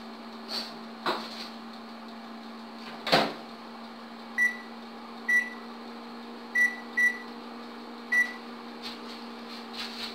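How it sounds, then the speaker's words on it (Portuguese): A steady mechanical hum drones on with periodic faint clicks and a few knocks, a microwave oven running on high power while baking a savory cake in a quiet kitchen. "Agora vamos deixar 9 a 10 minutos no micro-ondas."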